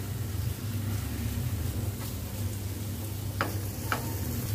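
Steady, close sizzle of spice paste sautéing in hot oil, a continuous frying hiss with two sharp stirring scrapes near the end, and no voices.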